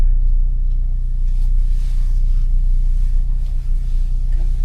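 A new Ford Bronco pulls away slowly, heard from inside as a steady, loud low engine rumble and drivetrain hum. The pitch barely changes throughout, and there is no talk.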